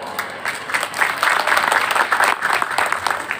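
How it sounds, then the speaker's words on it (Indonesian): Brief burst of applause from a seated audience of parents at an Islamic boarding school pre-graduation event, rising quickly into dense clapping that holds steady, with no talk over it. "Boleh tepuk tangan Bapak Ibu?"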